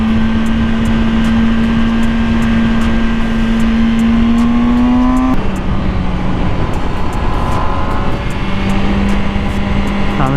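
A 2020 MV Agusta Brutale 1000RR engine holds around 6,000 RPM while riding, a loud, continuous drone whose pitch dips and climbs slightly as it shifts, over steady wind rush.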